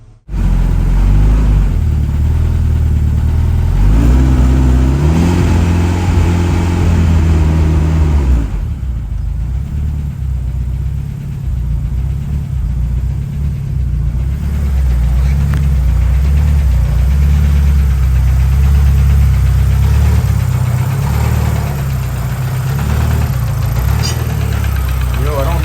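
A turbocharged Honda H22 engine in a CB7 Accord starts up and runs, giving a loud, continuous near idle with a brief surge early on and a steady rumble afterward.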